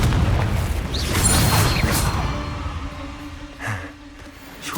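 Confringo spell explosion in Hogwarts Legacy, a heavy booming burst at the start that rumbles and slowly decays, followed by fainter game sounds and a smaller pop.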